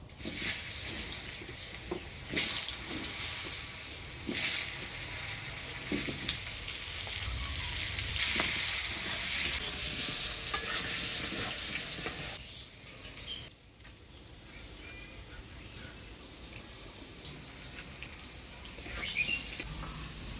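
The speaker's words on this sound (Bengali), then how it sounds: "এবার এই তেলের মধ্যে আলুগুলা ভেজে নেব।" Potatoes frying in hot oil in a home kitchen, after fish heads were fried in the same oil: a steady broadband sizzle and crackling patter runs throughout, easing somewhat in the second half.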